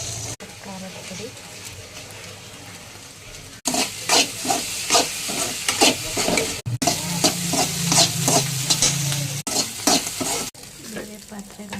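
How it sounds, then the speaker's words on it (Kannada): Egg frying in oil in a pan with salt and chilli powder, a loud close sizzle with repeated scraping stirs in bursts, briefly cut between takes, no talk. "ಈ ಮೊಟ್ಟೆ ಸ್ವಲ್ಪ ಫ್ರೈ ಮಾಡ್ಕೊಳ್ಳೋಣ"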